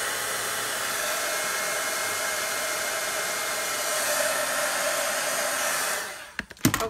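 A heat tool blows steadily for about six seconds, melting embossing powder on a snowflake card, then cuts off and leaves a few handling clicks and knocks.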